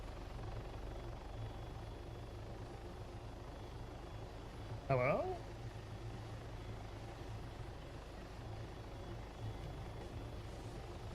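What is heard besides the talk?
helicopter in a video game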